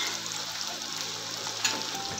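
Spices and red chili powder sizzle steadily in hot oil in a frying pan while cooking Awadhi chicken, a continuous close hiss with one brief louder crackle near the end.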